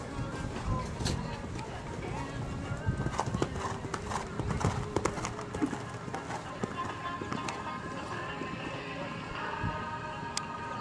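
Hooves of a six-year-old bay jumper horse clip-clop steadily at close range, with occasional whinnies, while a person talks over them.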